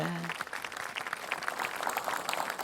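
Audience applause in a TV studio during a children's fun show: brisk, fairly dense clapping throughout a short stretch, with a faint tone at the very start.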